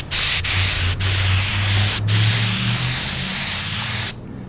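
Compressor-fed spray gun painting vintage trailer cabinet doors, a loud continuous close hiss in several long bursts with brief gaps, under a low steady compressor drone, ending abruptly.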